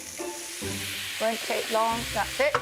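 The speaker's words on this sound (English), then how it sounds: "Then add some chilli, garlic, and mushrooms and let them sizzle." Chilli, garlic and mushrooms sizzle loudly in a hot frying pan with a steady hiss, as someone speaks briefly over the frying.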